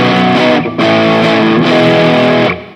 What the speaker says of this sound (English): That's the W.O. Stone Coral OD